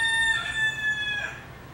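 A rooster crows once at a farm resort, a clear drawn-out call at moderate distance over faint background noise.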